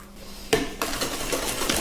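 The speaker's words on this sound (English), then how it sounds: "And just keep on whisking." Eggs whisked into banana bread batter in a bowl: a sudden start of close metallic clinking and scraping that carries on as a steady, busy rhythm, with no talking.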